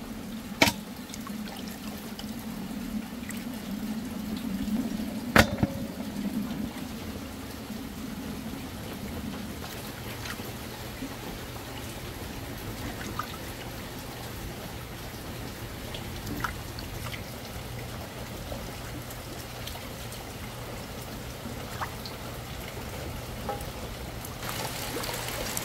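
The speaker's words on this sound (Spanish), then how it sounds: "escuchen qué bonita suena esa agua" Steady running water, like a small stream or runoff in a cool countryside setting during light drizzle, flows continuously throughout with a few faint knocks and ticks on top and no talking.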